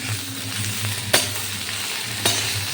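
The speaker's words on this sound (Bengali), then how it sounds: "এর মধ্যে টমেটো একটা টমেটো কুচি অ্যাড করে দিলাম" Chopped tomato hits hot oil in a pan of spiced ridge gourd and shrimp curry, raising a loud, steady, close sizzle broken by two sharp scrapes of a spoon against the pan.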